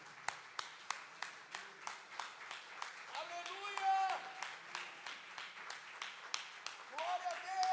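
A church congregation claps in a steady, even beat during a worship service, sharp rhythmic hand claps running throughout while a voice shouts and sings over them.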